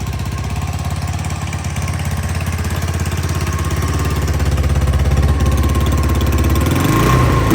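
Honda 1986 ATC 200X three-wheeler engine running close by, a loud, steady, rapid single-cylinder thrum that rises slightly as it is revved toward the end, with no talk.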